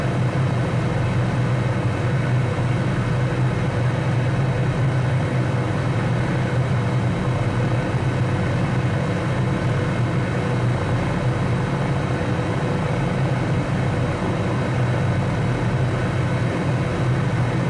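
A helicopter cruising in Microsoft Flight Simulator 2020 produces a steady, loud, low engine and rotor drone, continuous and unchanging throughout, with no talking.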